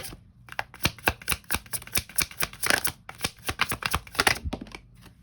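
Tarot cards shuffled by hand in a close, steady run of crisp riffling and slapping bursts, with no talking.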